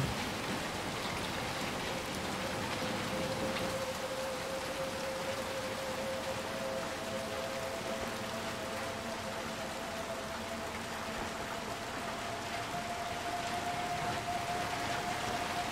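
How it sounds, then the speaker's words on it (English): A heavy rain downpour in the video game Little Nightmares II: a steady, dense hiss of rainfall that never lets up, with a faint sustained tone running through it. "It is just downpouring."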